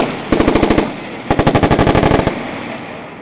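Squad automatic weapons firing at night in two sustained bursts of rapid, evenly spaced shots, loud and close, with a brief pause between bursts and a fading echo after.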